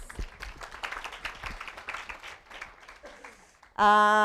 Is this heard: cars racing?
no